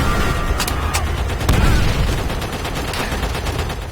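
Trench gun fire in the video game World at War: several sharp, loud shotgun blasts ring out amid ongoing battle noise and distant gunfire, with the heaviest boom in the middle.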